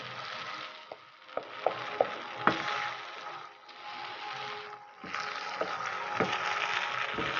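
Bread halwa being stirred with a spoon as the milk cooks down, giving a soft continuous sizzle with scattered scraping knocks and clicks of the spoon against the pan, moderately quiet and without talk.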